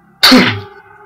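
A single sharp, loud sneeze bursts out close by, then trails off into a quiet hum of room noise.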